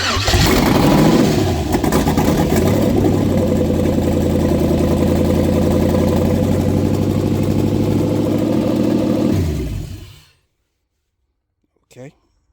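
A GMC Vandura van's L33 5.3-litre LS V8 fires up for the first time, running loud and steady near at hand for about ten seconds before shutting off, followed by a brief faint sound.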